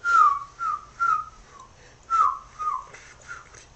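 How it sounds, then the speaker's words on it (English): A person whistles a short melodic tune from the video game Wind Waker, a series of clear rising and falling notes in separate phrases, close and fairly loud with no talk. "You were whistling the first tune of Wind Waker."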